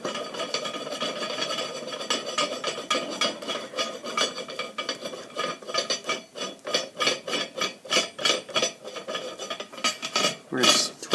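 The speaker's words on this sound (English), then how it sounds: "We're just twisting this in through the nut." A threaded rod for a shower bar support is twisted through a nut, making a rhythmic metallic rasping and grinding that grows into distinct pulsing scrapes, close and fairly loud.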